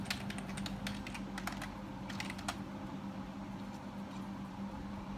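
A search query typed on a computer keyboard comes through as quick bursts of light key clicks over a constant low hum, fairly faint, with the clatter stopping after a few seconds.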